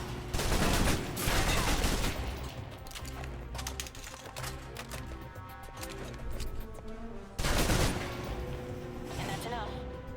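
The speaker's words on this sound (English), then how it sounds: "Now for your submachine guns. If you're trapped in close quarters with multiple opponents, the SMGs can help clear the room quickly." Submachine gun fire in the video game Alpha Protocol, with dense rapid bursts that open loudly, carry on under music and other game sound, then return as a second sharp volley near the end.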